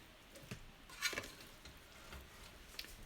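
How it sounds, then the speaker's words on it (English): A utensil stirs baked feta cheese pasta in a hot dish, giving soft scraping and light clicks against the dish, faint and close, with a couple of sharper taps standing out from the low background. "Let's just give this a little stir around."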